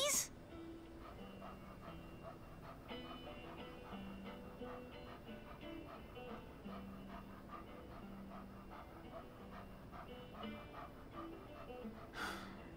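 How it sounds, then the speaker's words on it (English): A puppy panting in the video game Life Is Strange 2, a quick steady breathing rhythm running throughout over soft game ambience, with faint background tones. "Can we have the puppy?"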